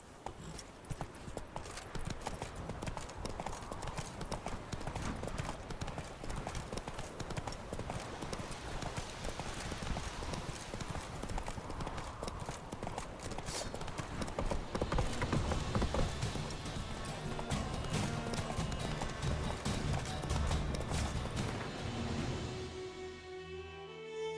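The horse Roach gallops in The Witcher 3: Wild Hunt, with rapid continuous clip-clop hoofbeats throughout, steady and close, swelling slightly midway before easing at the end.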